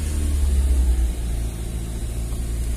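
A Honda car engine with an overheating problem is held at raised revs of about 2,000 to 3,000 rpm, a close, steady low droning hum that eases slightly partway through.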